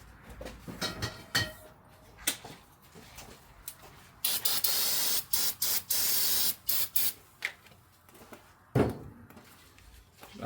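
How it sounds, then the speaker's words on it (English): Brake cleaner hisses from an aerosol can while working on a Chevy Cruze in a garage, several short sprays and one long steady burst standing out loudly amid quieter clanks and handling noises. "I need some brake cleaner."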